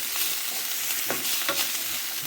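Onion frying in a pan for seafood paella, heard as a close, steady, bright sizzle with scraping stirs mixed in throughout.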